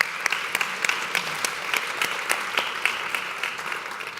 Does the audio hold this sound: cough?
no